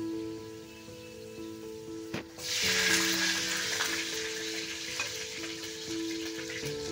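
Whole garlic cloves drop into hot oil with lightly fried potatoes, and the sizzle suddenly swells into a loud, steady frying hiss, with a faint hum running underneath.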